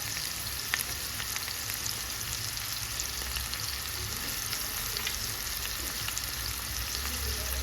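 Garlic paste fries in a pan with a steady, close sizzle and crackle that holds evenly throughout, dotted with a few faint stirring clicks.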